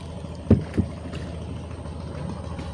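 A trawler boat at sea with waves around: a low, steady engine drone with a couple of sharp knocks early on.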